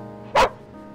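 A single short dog bark in the video game Dark Seed 2, sharp and close against a faint background.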